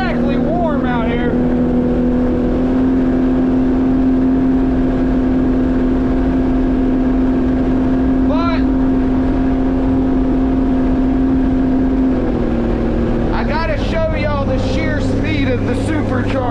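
A supercharged Sea-Doo personal watercraft engine drones loud and close on the water at a steady cruising pitch, then shifts and rises near the end, with a person talking over it.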